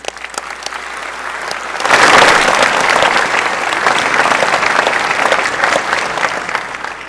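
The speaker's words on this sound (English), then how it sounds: "deserve our applause for these accomplishments" Applause breaks out in the state Senate chamber on opening day, a loud, dense wave of clapping that swells suddenly and holds steady to the end.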